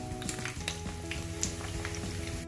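Crêpe batter cooks in a hot pan with a soft, steady sizzle and light crackling, close but quiet, over a brief stretch with no voices.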